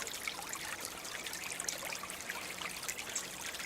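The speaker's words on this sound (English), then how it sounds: "There's my little creek." A small creek on a rural property trickles and babbles steadily outdoors, a soft continuous watery burble, fairly faint and uninterrupted, with no voices over it.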